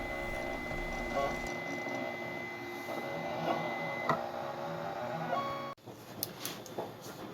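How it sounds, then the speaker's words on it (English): A cutting machine head scoring a groove into plastic sheet for a model ship superstructure, producing a steady mechanical whir with motor hum and faint ticking, then a brief drop and sharper scraping clicks near the end. "a close-up of the cutting head doing its work. It doesn't cut all the way through the plastic"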